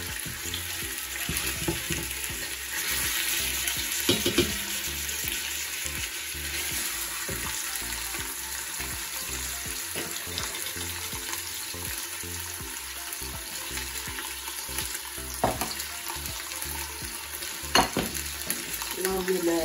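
Meat frying in a pan for a vermicelli dish: a dense, steady sizzle with frequent stirring clatter, close and loud throughout, and no one speaking.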